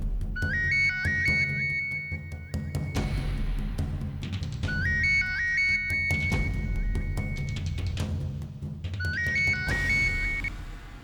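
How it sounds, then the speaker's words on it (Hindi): Phone ringtone from a television serial: a bright electronic melody of rising beeps plays in three repeated bursts over a steady low background hum, fairly loud and with no one speaking. "ओके आयु जी, मम्मा फोन रिसीव करने जा रही है"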